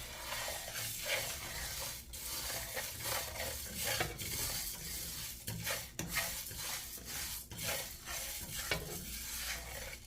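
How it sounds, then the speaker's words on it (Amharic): Steady scraping and stirring of coriander seeds dry roasting in a warm pan, a continuous rustling hiss with periodic louder strokes, close up. "ከዛ ደግሞ አምሰዋለሁ። ሞቅ ነው የምናደርገው።"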